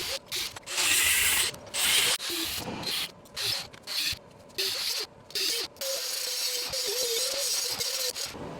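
A lathe making a relief cut on a chucked car suspension part with its studs pressed out, giving close, loud grinding and scraping bursts that start and stop repeatedly, with a faint tonal whine underneath.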